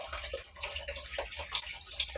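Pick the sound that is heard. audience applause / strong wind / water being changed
water being changed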